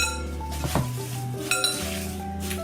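Strawberry spinach salad with onions and dressing tossed in a bowl, giving a few light clinks and knocks of utensils against the dish over a soft steady background.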